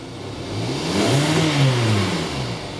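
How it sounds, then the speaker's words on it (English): A Hyundai car engine, stationary and suffering a throttle control fault, is revved once, its pitch rising and falling back over a few seconds, loud and close with no talk. "You clear enough for me to dead rev it, man?"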